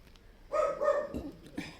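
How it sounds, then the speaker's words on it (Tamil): A single dog barks a few times in quick succession, fairly close and clear, with short yelping notes. "எங்கேயோ நாய் சத்தம்"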